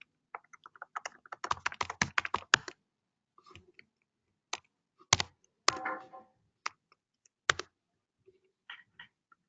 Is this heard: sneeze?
no